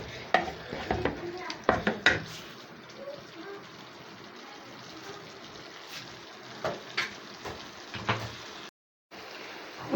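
Kidneys and liver being stirred in a hot frying pan, repeated scraping and clinking of a utensil against the metal over a low bubbling sizzle, close up, with scattered bursts of activity and brief pauses.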